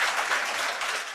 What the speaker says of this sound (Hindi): आपके लिए भी तालियां।